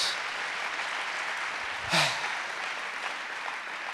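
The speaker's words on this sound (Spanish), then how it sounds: "Dele un aplauso al rey de reyes." An audience at a talk claps steadily in a dense, even wash of applause that lasts about four seconds, with one brief louder bump midway.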